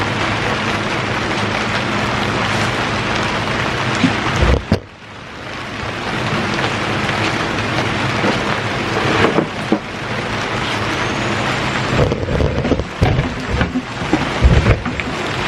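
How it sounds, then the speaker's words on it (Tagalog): Steady rain falls outdoors, a continuous close hiss with scattered louder patter and a few brief knocks, fairly loud throughout. "Umuulan na guys."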